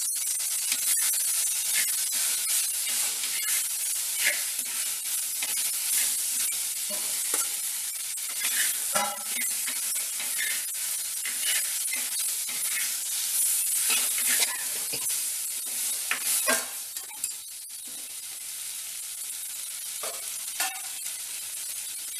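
Homemade rava pasta sizzling and being stirred in a pan of tomato masala with chilli, turmeric and fennel powders, a steady close frying hiss with scraping spoon strokes throughout, no talk.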